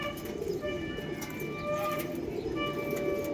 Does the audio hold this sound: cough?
no